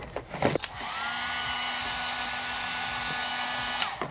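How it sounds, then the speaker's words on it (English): After a couple of clicks, a cheap pink hair dryer switches on and runs with a loud steady whir and airy rush, then clicks off. "It works, okay. Got a hairdryer."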